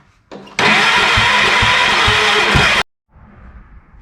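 Massey Ferguson 1650 tractor engine cranking on its push-button starter, a loud steady churning whir with rhythmic thumps lasting a couple of seconds, then stopping dead and falling quiet.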